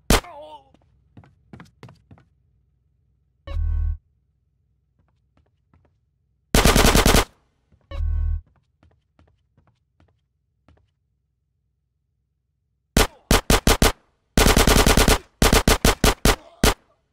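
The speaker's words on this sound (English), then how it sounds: "You gotta love the gun, Lobby." Gunfire in GTA San Andreas Definitive Edition during the final mission, sharp, loud bursts of automatic fire and scattered single shots separated by quiet gaps, with faint game sound in the background.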